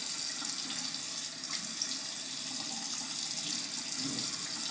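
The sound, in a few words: warm water running from a tap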